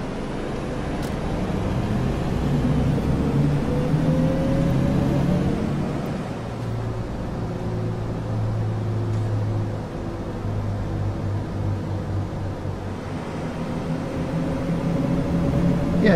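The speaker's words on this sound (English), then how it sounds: "I do like hearing the sound of a diesel" Diesel bus engine in the OMSI 2 bus simulator on the Bowdenham map, a steady low rumble that rises and settles as the bus drives, continuous and moderately loud with no talking.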